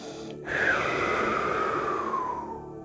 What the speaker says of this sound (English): Breathing out, coming down, take your stomach back in.